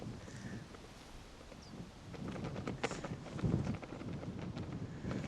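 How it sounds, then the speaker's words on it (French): Gusty wind buffeting the microphone on a golf course in Tucson, Arizona, rumbling in uneven bursts that grow stronger toward the end, with scattered rustling and faint background sounds. "Le vent est vraiment fort."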